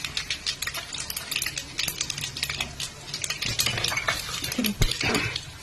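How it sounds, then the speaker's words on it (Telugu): Mustard seeds, urad dal, chana dal and cumin fry in hot oil in a pan, with soft crackling pops and light scraping of a spoon stirring, fairly quiet and close. "పోపు దినుసులన్నీ వేగాయండి"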